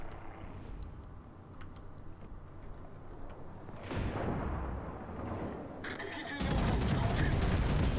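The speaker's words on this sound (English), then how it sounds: "I just like firing these guns in a ripple fire so much" Naval guns fired one after another in ripple fire aboard the Japanese battleship Fuso in a naval warfare video game, a run of booming reports building to a loud sustained roar at the end.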